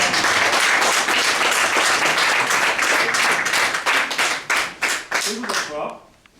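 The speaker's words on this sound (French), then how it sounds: "Vous pouvez les applaudir." An audience applauds loudly, dense continuous clapping that thins into a few scattered claps and fades out at the end.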